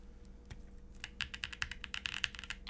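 A custom 75% mechanical keyboard with lubed U4T switches is typed on, giving crisp, close clacks that start sparse and then run in a quicker, louder burst of keystrokes.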